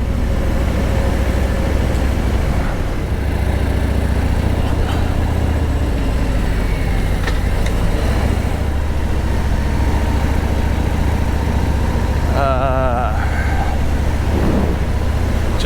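A Harley-Davidson Road King Special motorcycle cruising the hilly roads around Mount Glorious. A steady engine drone and road rumble, mixed with wind noise, runs continuously and close throughout.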